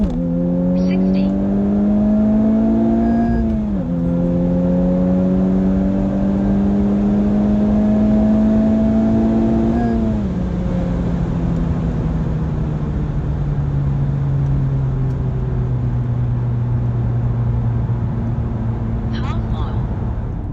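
A Honda Civic Type R pulls hard through a 0-60 acceleration run, its engine note climbing steadily through two gear shifts before settling into a lower steady drone, loud and continuous from inside the car.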